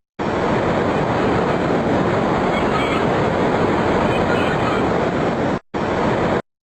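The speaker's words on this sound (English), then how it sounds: "breakers," Ocean breakers crash onto a shore in a steady, loud wash of surf that runs almost unbroken, cutting off briefly near the end before resuming, with no voices.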